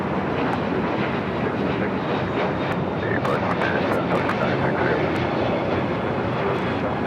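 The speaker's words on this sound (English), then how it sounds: "That was Spirit Airlines 2396 taking off to Columbus, Ohio on the A321neo" Spirit Airlines Airbus A321neo jet taking off from Los Angeles International Airport, a dense, continuous roaring rumble that stays loud and even throughout, with faint voices underneath.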